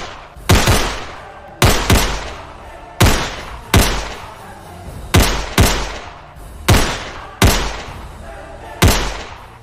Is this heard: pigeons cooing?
no